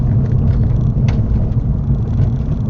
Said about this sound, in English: I especially love driving it on single track roads like I'm driving on now